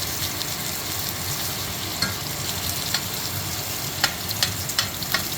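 Butter sizzles and crackles in a hot searing pan with rosemary, thyme and garlic, giving a steady loud frying hiss with a few sharper pops and spoon clicks near the end.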